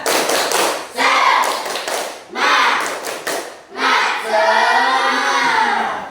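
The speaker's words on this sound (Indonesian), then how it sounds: "kita ulang tepuk semangatnya. Tepuk semangat." A primary school class performs the rhythmic 'tepuk semangat' clapping chant, loud bursts of clapping and children's shouted chanting in repeated phrases, each followed by a short gap, growing into a final long chanted stretch.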